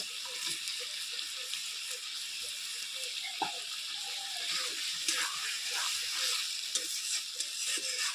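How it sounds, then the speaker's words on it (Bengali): Pre-fried potatoes tipped into well-cooked sizzling masala in a pan for a jackfruit kofta curry, a soft continuous sizzle with light scraping and clinks at moderate distance. "মশলাটা ভালো করে কষে নিয়েছি এবার আমি আলুগুলো দিয়ে দিচ্ছি ভেজে রাখা আলুগুলো"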